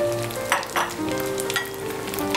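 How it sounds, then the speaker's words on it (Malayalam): Cooked rice being slowly stirred together with boiled chana dal, ghee and oil in a pan, giving a steady sizzle with soft scraping stir strokes throughout, no voices. "ഇനി സാവധാനം ഇളക്കി യോജിപ്പിക്കും."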